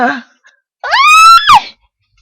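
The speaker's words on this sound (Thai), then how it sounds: "ย่าตกใจกลัวมาก ถึงกับกรีดร้องเสียงดังออกมา" A woman gives one loud, high, rising scream of fright in a ghost drama performance, briefly sustained and then cut off, after a short vocal sound.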